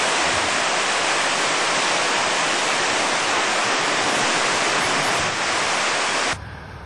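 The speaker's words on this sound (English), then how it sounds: "This is the lower part of that waterfall that we just looked at about a quarter of a mile ago." Lower section of a waterfall on a Mount Timpanogos hike, a dense, continuous roar of rushing water filling the whole range, loud and close, with no voices, cutting off abruptly near the end.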